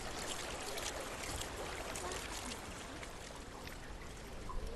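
A waterfall in the game Hellblade: Senua's Sacrifice gives a steady, dense broadband rush of falling water that holds constant throughout, faint in level and with no break.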